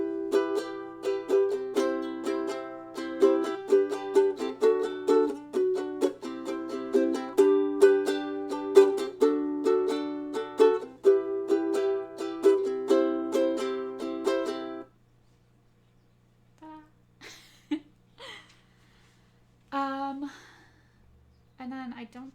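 Ukulele chords strummed steadily through the interlude into the first chorus of a song, a continuous close, lively rhythm for about fifteen seconds, then a few sparse plucked notes and a short pause near the end.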